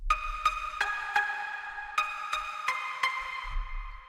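Serum pluck preset named plug PZ, a bright synth tone rich in upper harmonics, playing a short melodic run of plucked notes that ring and fade, heard alone without talk.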